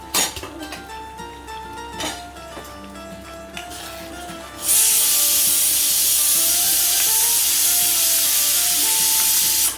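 A pot of milagu kuzhambu, a pepper curry, simmers and bubbles with a steady broad hiss that rises sharply halfway through and stays loud, with a few faint clinks early on.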